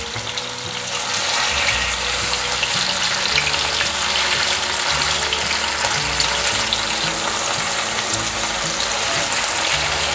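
Tofu sizzles steadily as it pan-fries slowly until golden on both sides, a dense, constant crackle with low bubbling underneath, close and fairly loud, with no voices.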